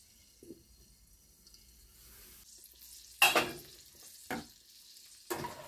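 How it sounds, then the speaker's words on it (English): Bologna frying in butter in a covered pan, a soft steady sizzle with a few louder crackling bursts and clanks, close and alone without talk. "You can hear it frying."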